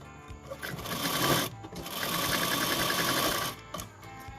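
A sewing machine stitches a reversible jacket in two close bursts of rapid, even mechanical clatter. A short pause separates the bursts, and the motor whirs quietly between them.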